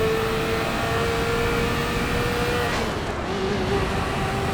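A race car engine in the Assetto Corsa EVO game pulls hard, a steady high whine rising with acceleration and a quick gear change near the end, close and constant with no speech.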